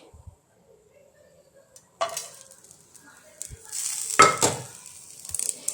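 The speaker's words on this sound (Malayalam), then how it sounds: "പാൻ ചൂടായി വരുമ്പോഴത്തേക്ക് ഈ തേങ്ങ, ഉലുവ, ചെറിയുള്ളി, കറിവേപ്പില ഇതെല്ലാം കൂടെ അങ്ങ് ഇട്ട് കൊടുക്കുവാണേ" Grated coconut, fenugreek, shallots and curry leaves drop into a hot pan for a Kerala pumpkin theeyal. After a quiet start comes a sudden sizzle with clinks of utensil against pan, and a voice talks over it.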